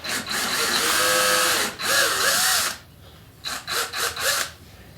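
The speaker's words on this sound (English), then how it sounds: "we're going to do a little pre-drill since we're going through the Bondo" A power drill pre-drills through Bondo into a wooden plaque for mounting a turkey fantail, whirring loudly in two long bursts, then three shorter pulses, close up with no talk.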